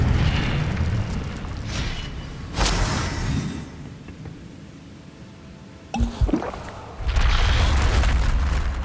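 Incendio fire spells cast in Hogwarts Legacy burst out as deep booming whooshes over a steady game-combat backdrop, with one blast near the start and a sharp cluster of impacts toward the end.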